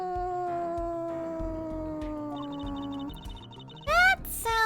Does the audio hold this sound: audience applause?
no